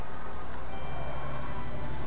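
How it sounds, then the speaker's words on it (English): Traffic hums and rumbles steadily from the street outside an open window, a continuous low wash of passing cars with a faint beeping tone on top. "My window is open. I don't know if you guys can hear the cars"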